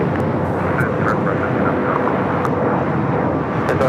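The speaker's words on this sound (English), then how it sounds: "Phenom 300 taking off to Thermal, FlexJet 358" An Embraer Phenom 300 business jet taking off at LAX, a loud, steady engine roar heard close, with a voice talking over it.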